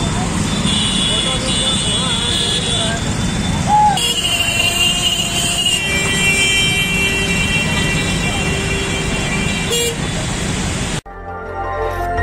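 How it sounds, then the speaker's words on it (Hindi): Heavy traffic jam at a city intersection in Bareilly after three days of rain: a dense, loud roadway rumble with engines and horn-like tones, an ambulance stuck among the vehicles, and talk over the noise. "मंगलवार को आयुब खां चौराहा पर भीषण जाम लग गया।"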